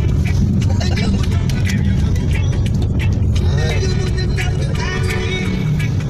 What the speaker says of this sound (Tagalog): Medyo maraming sasakyan, hindi tayo makapagpatakbo na maayos.